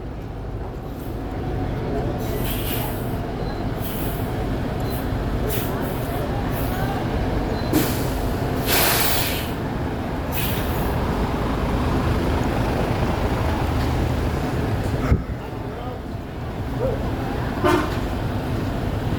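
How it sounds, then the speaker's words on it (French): Street ambience at a bus stop in Vietnam, with a steady traffic rumble and several short horn toots and honks from buses scattered throughout, while someone talks over the noise. "Là il y a des bus comme je sais pas où ils vont."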